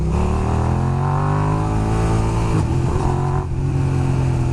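A Suzuki SV650 motorcycle under way, its twin-cylinder engine droning loud and close with smooth revs rising, a brief dip as it shifts, then holding steady.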